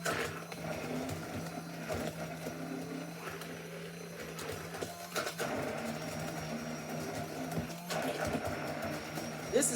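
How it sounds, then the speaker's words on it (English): A small milkshake-style mixer blends cake batter with a steady, whirring mechanical hum that runs throughout, while a person talks over it. "This is almost like what you make milkshakes and stuff with, but I'm using it to mix this cake up"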